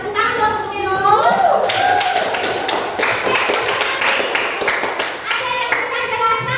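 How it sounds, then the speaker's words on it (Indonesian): A classroom of students claps together in a sustained round of applause for a classmate, dense overlapping hand claps running throughout, with children's voices chattering underneath. "Tepuk tangan dong untuk Irul."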